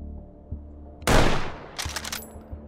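A single loud, close sniper rifle shot from an SV98 in the VR shooter H3VR booms out and decays, followed by a brief mechanical bolt rattle.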